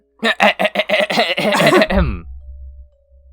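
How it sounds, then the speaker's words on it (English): An odd, voiced cough sputters out as a quick run of rhythmic bursts, then fades into a low rumble. "That was a weird cough."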